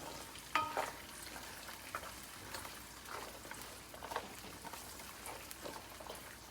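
Spices being stirred into garlic frying for a garlic pickle, a soft close sizzle with scraping stirs and a sharper clatter near the start, quiet overall with no talking.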